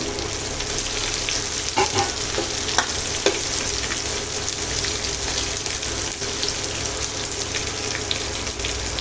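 Chopped large onions sautéing in a pan for a drumstick leaf (murungai keerai) stir-fry, giving a steady close sizzle with a few light stirring clicks and no talk.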